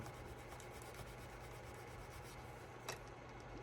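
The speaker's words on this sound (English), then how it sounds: "take the edge of your thing and rub it" Leather wallet edge is rubbed with a steady, faint scuffing friction, a continuous dry rasp close up with one small sharper scrape near the end.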